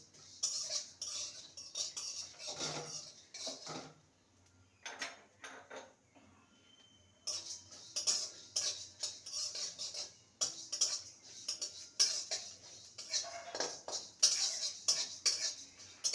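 Whole spices and a bay leaf dry-roasting in a pan while being stirred, with bursts of scraping and clinking metal against the pan separated by quiet pauses.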